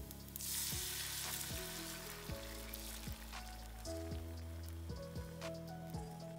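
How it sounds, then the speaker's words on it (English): Eggs fry in a hot pan with a steady, crackling sizzle spread across the whole stretch. It stays faint and even, with light ticks and pops over a low tonal hum, and no one speaks. "then that's when I pour the eggs"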